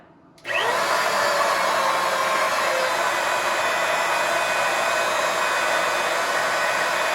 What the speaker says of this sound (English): I'm going to turn the pump on